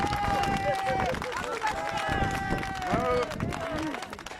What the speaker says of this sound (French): Un tonnerre d'applaudissements à Bastien Régnier.